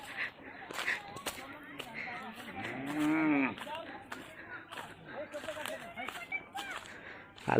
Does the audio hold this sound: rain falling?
no